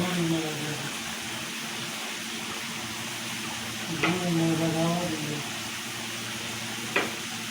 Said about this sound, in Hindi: अभी हमने ये 10-15-20 दाने हरी मिर्च लिए, ये डालेंगे